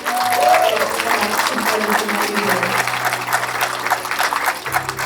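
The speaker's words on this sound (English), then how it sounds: "So can you please give Kim a big round of applause?" Loud, sustained applause from an audience at a breast cancer charity walk, dense clapping that fills the whole stretch, with faint voices mixed in.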